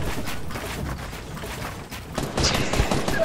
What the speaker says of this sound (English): Robert, why are you trying to shoot me down?